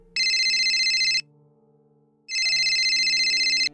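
A telephone rings in two bursts of a bright electronic trill, each lasting about a second, separated by a pause over faint background tones.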